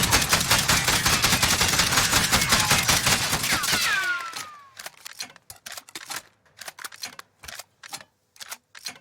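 A JAK-12 drum-fed shotgun in Warzone fires in a loud, rapid burst, then a quick series of sharp mechanical clicks and clacks follows as the drum is reloaded.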